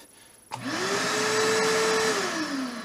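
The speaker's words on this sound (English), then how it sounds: "all you gotta do is hit the foot pedal and vacuum up" A shop vacuum switched on at a milling machine hums loudly with its hose pulling up metal chips, a steady whine that runs for about two seconds before easing off.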